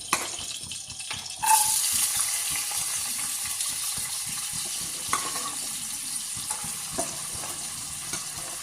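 Nuts frying in ghee in a pan during home cooking, a continuous moderate sizzle with occasional stirring clinks and scrapes, no talking.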